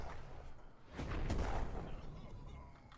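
A muffled explosion in a minefield in a war video game booms up midway, a dull low rumble rising over faint background noise and then fading out.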